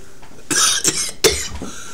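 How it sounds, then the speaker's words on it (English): Two sharp, close coughs about three-quarters of a second apart, each a harsh broadband burst, with a faint trailing rasp after the second, heard while vaping a 180-watt box mod. "I'm coughing like a little bitch."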